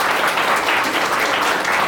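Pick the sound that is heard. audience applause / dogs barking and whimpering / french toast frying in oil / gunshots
audience applause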